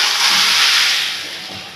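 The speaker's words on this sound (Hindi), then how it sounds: "अब देखिए ये तेल गरम हो गया है, अब मैं इसमें डाल के अच्छे से फ्राई कर लूँगी" Boiled chicken hits hot oil in a pan, releasing a loud, close burst of hissing sizzle that slowly fades over a couple of seconds, with no voices.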